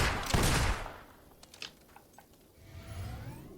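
Pistol shots fired in the video game Fable 2, a burst of loud close reports up front followed by scattered fainter shots and echoing tails, with no talking.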